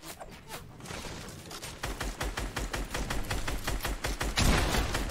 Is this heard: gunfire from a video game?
yes